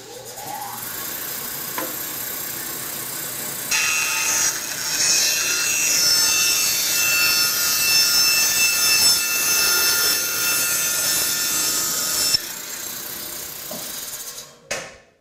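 A Hammer N4400 bandsaw with an extension table rips a 46.5-inch wooden board, giving a steady close-up rasping, whining cut that strengthens midway and runs for about twelve seconds before winding down.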